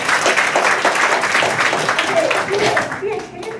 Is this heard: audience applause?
yes